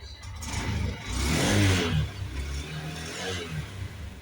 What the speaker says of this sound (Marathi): तुम्हाला तर मी गाडीचा साऊंड पण ऐकवतो